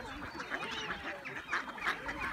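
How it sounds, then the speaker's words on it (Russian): Ducks quack repeatedly at a lake in Gatchina park, a soft, fairly distant chorus of honking calls under outdoor background noise. "Тут уточки у нас, как обычно, да."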